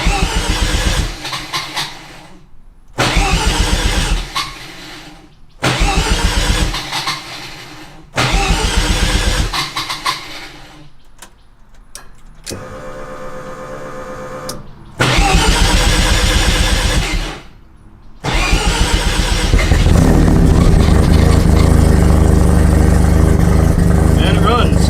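A Mazda RX-7 with a swapped Turbo II rotary engine, running with no map and a hose still unhooked, cranks in five or six separate bursts with short pauses before it catches and runs loudly and steadily.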